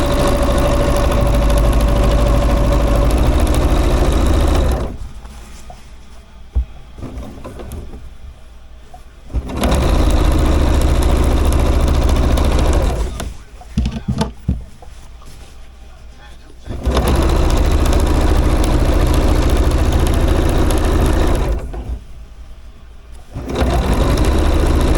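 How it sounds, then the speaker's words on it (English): A sewing machine stitching quilted strips onto a sweatshirt sleeve, running in loud, close bursts of rapid whirring several seconds long, separated by quieter pauses with some handling noise. "I'm just sewing straight down through here."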